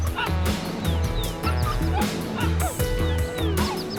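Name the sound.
wolf pups yelping and whining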